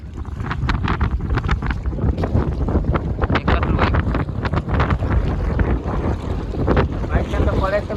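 Strong wind buffets the microphone on a fishing boat at sea, making a loud, gusty roar that fills the whole stretch alongside water and boat noise, with some talk mixed in.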